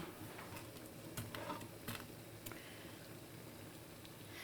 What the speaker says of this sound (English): It's making a nice little sizzle.